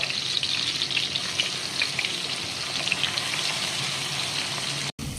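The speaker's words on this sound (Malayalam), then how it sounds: "ജിഞ്ചർ ഗാർലിക് പേസ്റ്റിനെ ഒരു 2 മിനിറ്റ് നമ്മൾ ഫ്രൈ ചെയ്യണം കേട്ടോ" Ginger garlic paste sizzles in hot oil for a North Indian chicken curry, a dense, steady crackling hiss heard up close with no voices, cutting off briefly near the end.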